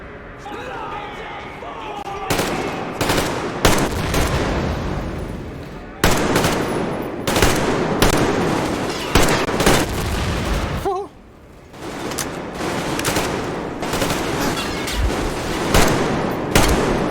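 Loud bursts of automatic gunfire and heavy impacts from the Metro Exodus video game come in dense volleys with short gaps. A voice talks over part of the shooting.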